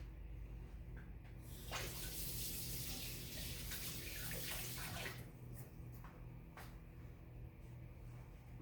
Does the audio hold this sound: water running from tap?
yes